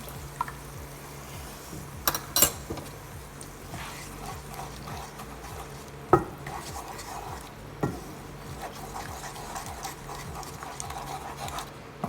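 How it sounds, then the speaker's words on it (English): An egg is whisked with a fork and scrambled in a pan among leftover rice for jerk egg fried rice. It comes through as faint scraping with a few sharp clicks and taps of the fork against the pan over a low background. "So next we add in the egg. And kind of whisk it out with a fork in our way. So it gets scrambled."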